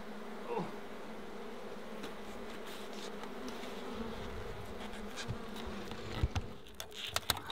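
Honey bees in the Australian mallee bush drone in a steady, dense buzz around an open hive during a routine inspection, with a few brief close knocks and clicks near the end.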